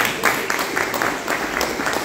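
A church audience at a theology lecture gives a short burst of dense, close applause for Jesus, filling the moment on its own.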